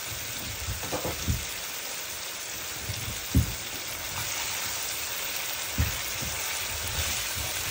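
Meat and onion sizzle in a hot pan while being stir-fried, a continuous crackling hiss broken by a few dull knocks of a utensil against the pan.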